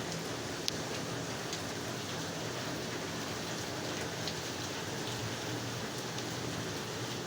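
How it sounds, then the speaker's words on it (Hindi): Heavy rain pouring steadily, a constant dense hiss of drops drumming on surfaces with no pause. "बारिश हो गया यार, बारिश हो रहा है अभी भी"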